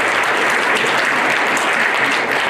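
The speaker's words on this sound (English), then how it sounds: "So if we could have a round of applause for all these people." Applause from the audience at the Town of Taos Living Treasures program, a thick continuous wash of clapping, loud and steady from start to finish.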